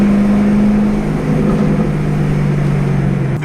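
A 6th gen Camaro is driving with the windows down, giving a loud, steady close drone of engine and road noise with a low engine tone that slowly drops in pitch.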